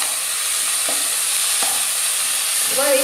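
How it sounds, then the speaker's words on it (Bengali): Chicken with green chillies and spices being sautéed over low heat in a pan, a steady loud sizzle with occasional stirring scrapes, close and continuous with no talking. "এবার এই সমস্ত মশলা চিকেন আমি খুব ভালো করে অল্প আঁচে কষিয়ে নেব।"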